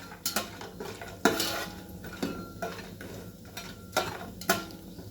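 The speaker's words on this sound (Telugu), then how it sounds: "ఇప్పుడు మిరియాలు కూడా యాడ్ చేసేస్తున్నాను. సో ఇవి ఇప్పుడు కొంచెం ఫ్రై అవుతాయి." Black peppercorns sizzling in a pan as a spoon stirs them while coconut rice prasadam is made, heard as sharp metallic scrapes and clinks in an irregular rhythm over a faint frying hiss.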